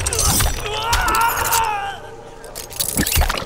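A gory fatality in Mortal Kombat X at a tournament grand final gives off wet, crunching splatter and gurgling bursts, loud and close, with a voice talking over the game audio.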